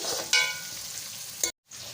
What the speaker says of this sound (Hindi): हम इसमें बारीक कटा हुआ लहसुन डाल लेंगे और अच्छी तरह से मिक्स कर लेंगे